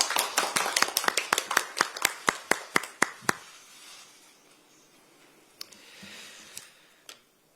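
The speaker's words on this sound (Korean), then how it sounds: "먼저 하정우 전 수석비서관을 큰 박수로 맞이해 주시기 바랍니다." At a party talent recruitment ceremony, clapping welcomes former senior presidential secretary Ha Jung-woo: a quick run of sharp, evenly spaced claps for a few seconds, then only a few sparse claps fading into quiet.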